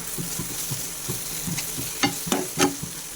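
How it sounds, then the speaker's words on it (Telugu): Chilli powder and garam masala frying in oil in a pan over a medium flame, giving a steady hiss with soft rhythmic stirring taps and a few sharper scrapes near the end, heard up close. "కొంచెం ఇది మీడియం ఫ్లేమ్లో పెట్టుకొని వేపుకోవాలి"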